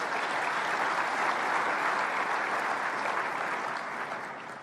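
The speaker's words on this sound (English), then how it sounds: "I would like us to give her a round of applause in this room here" A room full of people applauding steadily for the Miss Geek Africa award at a technology summit closing ceremony in Kigali, Rwanda, the clapping sustained and dense throughout before easing slightly at the end.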